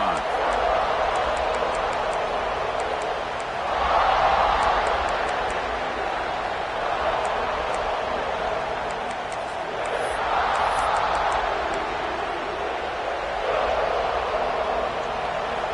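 A fired-up American football stadium crowd roars continuously in the background, rising in waves, while a commentator talks over it.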